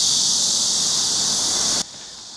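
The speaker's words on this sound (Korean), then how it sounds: "여전히 매미 소리는" Cicadas drone loudly on a hot summer day near a public sports stadium track, a dense, steady buzzing hiss that suddenly drops off near the end.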